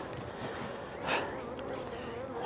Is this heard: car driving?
no